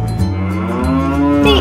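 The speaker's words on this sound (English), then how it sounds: "The Alpine Bull." A single long, loud, close moo from an Alpine bull on a farm, a deep sustained bellow that rises slightly toward the end, heard alone.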